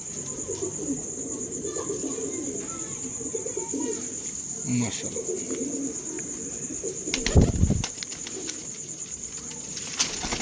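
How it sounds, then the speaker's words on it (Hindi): Pigeons coo softly nearby over a constant high insect-like drone, with a short spoken word from a man partway through. "बड़ा नायाब कबूतर है जी"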